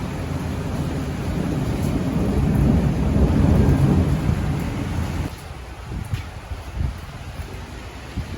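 Heavy rainstorm with thunder over Rostov-on-Don, a loud continuous roar of thunder and downpour that swells for several seconds, then drops to a steadier rain hiss with scattered low rumbles.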